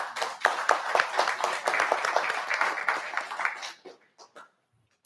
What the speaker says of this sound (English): I wanted to ask my fellow reps if we would join you in giving you a round of applause for coming today